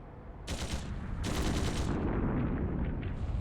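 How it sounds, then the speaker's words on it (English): Bursts of rapid gunfire from the next district in the video game Trails through Daybreak II, two sharp volleys over a loud, rumbling barrage that keeps going underneath. "Gunshots! From the next district!"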